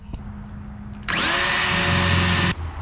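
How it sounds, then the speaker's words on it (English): A power drill drilling out rivets on a Jon boat whines into metal for about a second and a half, high and steady, after a quiet start, then cuts off abruptly. "take a drill bit and just drill out the inside of them"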